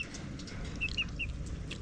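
A few short, soft clucks from chickens in an African village, over a low rumbling background, quiet and somewhat distant, with no talking.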